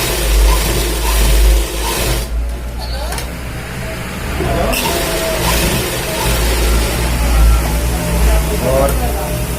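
A sewing machine runs along the edge of a pant side pocket, with a loud, steady motor drone and rhythmic stitching throughout, and a voice talking over it.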